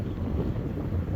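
Wind buffeting a microphone outdoors, a constant low rumbling roar of breeze for a brief moment.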